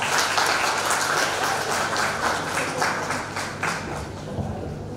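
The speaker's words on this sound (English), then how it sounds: "Let's welcome him with huge round of applause." An audience at an optometry conference applauds to welcome a speaker, dense and steady clapping filling the hall and tapering slightly toward the end.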